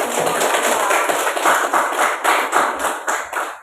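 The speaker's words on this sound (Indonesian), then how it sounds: "beri tepuk tangan" Classroom applause after student group presentations, a steady patter of many hands clapping together, fairly close and continuous with no talk over it.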